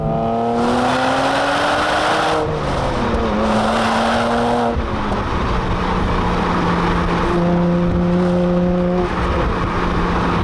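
A BMW 1 Series M Coupe engine pulls hard through several gears, each rising note cut by a quick shift before climbing again, loud and close with no talk over it.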